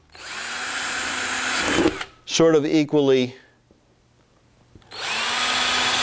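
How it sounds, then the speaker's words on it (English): A power drill bores into a DIY solar hot water collector panel in two long loud whining runs, one at the start and one at the end, with someone speaking briefly in the quiet gap between them. "we're going to drill this."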